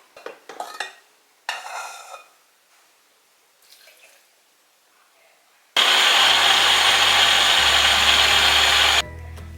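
An electric blender whirs for Thai lod chong coconut milk dessert, starting abruptly after a few quiet kitchen clatters and roaring loud and steady for about three seconds before dropping off.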